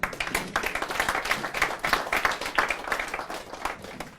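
An audience at a property investment inner-circle event applauds with dense, steady clapping that holds at an even level for several seconds, with no talk over it.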